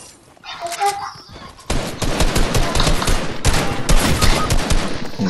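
Rapid bursts of video game gunfire crackle and rattle almost without pause, loud and close, with panicked voices calling out underneath at the start.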